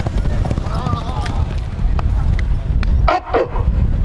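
A mare gallops in a horse race, her hooves thudding in a quick clip-clop rhythm beneath loud, excited talk from people nearby.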